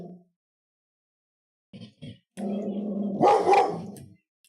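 A dog barks and yips in a couple of short bursts, then lets out a longer, louder whining bark close to the microphone, with silence in between.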